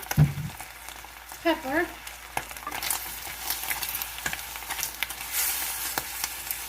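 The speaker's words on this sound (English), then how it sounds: "And now it's reducing down and frying up." Steady crackling sizzle of maple brown sugar bacon with black pepper frying and caramelizing in a pan, with occasional louder pops and a brief stirring scrape partway through.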